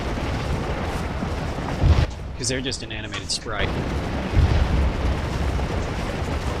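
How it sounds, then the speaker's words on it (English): Artillery shelling in the Civil War strategy game Scourge of War: a steady roar of battle noise with heavy booms near two and four and a half seconds, under someone talking. "the artillery is just shelling the absolute shit out of them"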